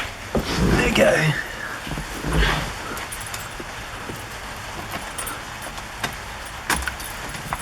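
A set of keys jangles in short metallic bursts near the start while someone works on the headlight relay wiring of a Porsche 911, followed by quieter clicks and handling noises in a garage.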